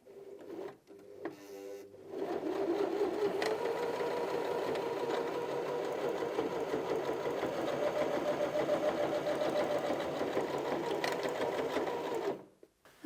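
Janome HD2200 sewing machine stitching through thick material at a lengthened stitch, a steady close mechanical hum and rapid needle chatter running unbroken for about ten seconds after a few short starting clicks.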